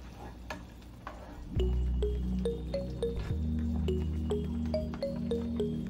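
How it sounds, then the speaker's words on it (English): Pineapple chicken (Pininyahang Manok) is stirred in a pot on the stove, with a steady simmering bubble underneath and a series of light utensil scrapes and taps against the pot, fairly close and without speech. "we will mix our Pininyahang Manok"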